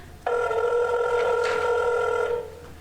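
An old-style telephone bell in a radio drama rings once in a loud, continuous electric trill of about two seconds, starting abruptly and then cutting off, with no voices over it.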